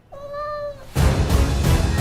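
A cat gives one clear, close, drawn-out meow, followed by a burst of loud noise.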